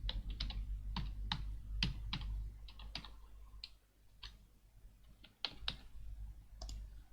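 Steady, fast clicking of keys on a computer keyboard as a search is typed, close and fairly quiet, with short pauses between runs of keystrokes over a low background hum.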